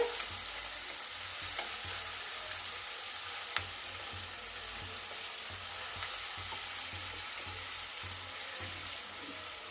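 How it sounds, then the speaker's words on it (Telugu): Tomato and onion softening in a pan for a ridge gourd curry, a constant close frying hiss with faint periodic stirring scrapes, steady and unvoiced. "టమాటా ఉల్లిగడ్డ కొంచెం మగ్గాలి మగ్గితే బాగా టేస్ట్ వస్తుందండి"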